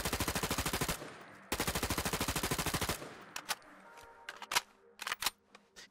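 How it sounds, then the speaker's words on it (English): An XM8 assault rifle in a Fallout 4 mod fires two rapid, evenly spaced full-auto bursts, then a series of crisp mechanical clicks and clacks as the standard magazine is reloaded. "starting off with firing and reloading with a standard magazine"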